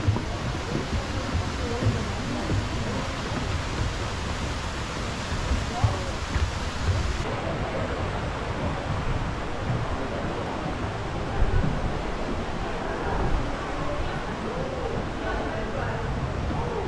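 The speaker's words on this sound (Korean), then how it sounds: "용추 폭포입니다." Yongchu waterfall in the Juwangsan gorge pours in a steady, full rush of falling water, constant and moderately loud with no break.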